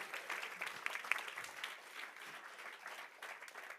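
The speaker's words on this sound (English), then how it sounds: "Clap your hands and shout." Church congregation clapping and shouting during a live service, a steady faint wash of hands under distant crowd noise.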